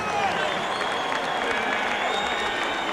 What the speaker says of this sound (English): how about a round of applause for the game challenger who came in here tonight